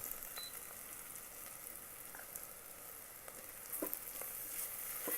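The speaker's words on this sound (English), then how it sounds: "And let it fry for 1 minute." Ginger and garlic paste fries with browned onion in an Instant Pot for a chicken biryani, a soft steady sizzle with a few light pops and stirring clinks, close and quiet, with no talking.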